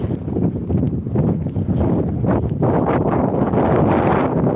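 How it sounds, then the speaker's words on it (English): Strong wind roars across the microphone on the seaside promenade at Withernsea in the evening, a loud, continuous buffeting rumble with gusting swells and no talk. "it's certainly a windy evening"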